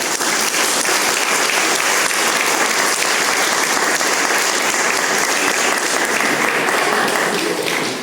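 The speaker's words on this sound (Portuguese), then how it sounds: "As palmas para as crianças." Steady, loud audience applause for a children's church service presentation, dense and continuous throughout with no talking.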